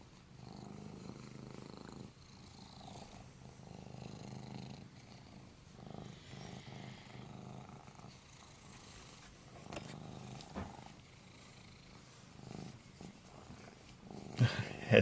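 A kitten purrs up close in a steady, low rumbling drone that runs the whole time, with a few soft rustles and bumps mixed in.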